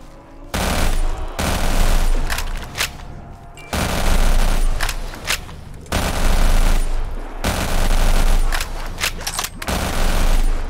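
Loud, close automatic gunfire from a gun in a video game comes in several sustained bursts of rapid fire separated by short pauses.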